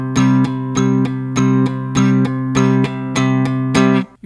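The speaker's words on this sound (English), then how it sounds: "the metronome pulses on the second and fourth beat instead of the first and the third." A metronome ticks on beats two and four over a sustained strummed guitar chord, giving seven evenly spaced clicks through a steady ringing tone, with no talking.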